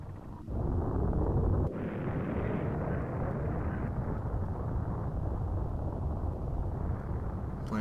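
A planet exploding in the Super Metroid video game, a loud continuous rumbling roar that sustains with little change, no voices.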